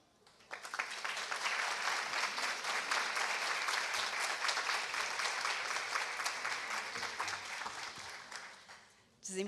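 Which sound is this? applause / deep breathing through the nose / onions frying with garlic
applause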